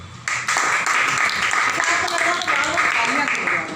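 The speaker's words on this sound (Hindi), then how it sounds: "इसके लिए फिर से तालियां बजाएं" An audience at a direct-selling plan presentation claps, a dense sustained wash of applause that starts abruptly and holds steady and fairly loud for several seconds, with crowd voices mixed in.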